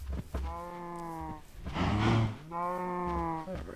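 Cattle mooing in Minecraft: two drawn-out harmonic moos with a noisy, breathy low call between them, close and clear.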